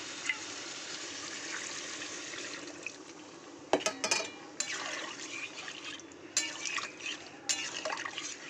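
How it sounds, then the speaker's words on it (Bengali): Water poured into a pan of simmering potato and pointed gourd curry after the spices have been fried in oil, a steady liquid splash and trickle with a few brief louder gushes, close and with no talk. "এবার একটু দিয়ে দেবো জল।"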